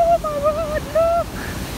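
Water rushes through the rocky Orridi di Uriezzo gorge in a constant broadband roar, while a person speaks over it in a high, excited voice.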